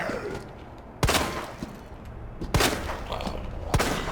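Three loud, sharp gunshots, about a second and a half apart, hit Chief Irons in the head during Claire's fight in the Resident Evil 2 Remake game, each ringing out over a low, rumbling game ambience.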